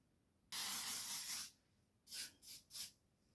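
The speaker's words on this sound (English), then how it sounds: "I'm just gonna set my hair, guys, with this Glamour Beauty spray" Glamour Beauty hair setting spray hisses in one steady burst of about a second, then three short quick puffs follow, all close and fairly soft with no talking.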